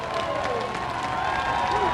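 Football crowd at an Elon home game cheering and applauding after a first down, a broad steady roar of many voices and claps held at moderate distance for the whole moment.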